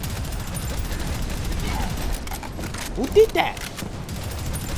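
Rapid gunfire rattles in a dense, continuous burst during a first-person shooter game on a community map, loud and close throughout, with a few sharper impacts near the end and a voice briefly speaking over it.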